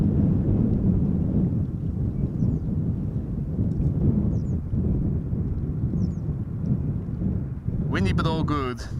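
Heavy, low buffeting of wind across a microphone at Schiphol Airport, rumbling continuously, with faint bird chirps and a brief voice near the end.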